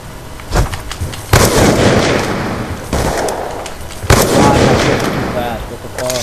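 Heavy gunfire in the Pm wars game comes in loud bursts of sharp cracks and booming blasts, with rough noisy stretches between them and a few brief voices mixed in.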